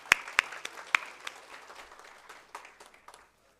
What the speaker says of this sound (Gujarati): તો આ તાળીઓ મારે તમારા માટે વગાડવી પડે.